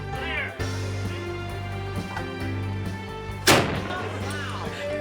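A cannon fires from a tall ship during a race on Lake Michigan. One sharp boom cuts through the steady wind and water noise and dies away quickly, and voices can be heard before the shot.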